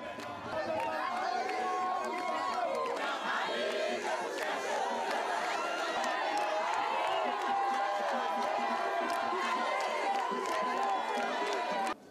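A crowd in Cotonou cheers, shouts and chatters steadily as Gabonese President Ali Bongo Ondimba does a walkabout, a bustling, sustained roar of many voices without pause.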